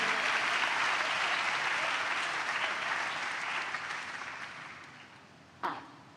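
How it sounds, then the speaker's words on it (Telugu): A church congregation claps together in sustained, dense applause filling the room, gradually thinning toward the end, with a sharp knock near the close. "చప్పట్లు కొడుతూ ప్రభు వారికి స్తోత్రాలు చెప్దాం"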